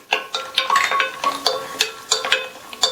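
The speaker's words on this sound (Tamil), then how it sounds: "அதில் 2 டேபிள் ஸ்பூன் நெய் சேர்த்து, நெய் உருகினதும் இதில் 15 போல் முந்திரியை சேர்த்து நல்லா பொன்னிறமாக வர வரையும் மிதமான தீயில வச்சு வறுத்து எடுத்துக்கலாம்" About 15 cashews roasting over medium heat in two tablespoons of melted ghee in a pan for rava payasam, giving a soft crackle broken by repeated scraping stirs against the pan, close and steady with no voices.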